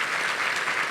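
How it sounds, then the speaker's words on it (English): Guests at an anniversary celebration dinner give a dense, even round of applause, a full room of clapping sustained throughout the short moment. "Can we give her a round of applause?"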